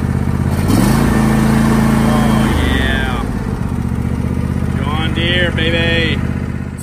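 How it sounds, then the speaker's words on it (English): A John Deere E120 riding mower engine starts up and runs steadily, loud and close, with a voice talking over the engine noise. "This is good mower. It runs good. Listen to it start up."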